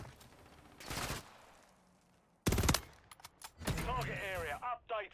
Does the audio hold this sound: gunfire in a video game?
yes